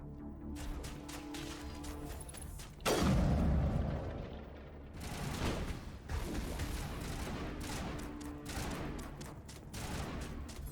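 Sustained game gunfire from Mass Effect, a dense fusillade of shots running throughout with a loud heavy blast near the three-second mark, close and continuous.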